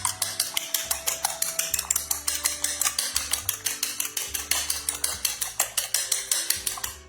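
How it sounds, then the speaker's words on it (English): A utensil beats egg batter in a metal bowl with fast, rhythmic clinks and scrapes. The beating is close and continuous, with no talking. "So I'll mix it again."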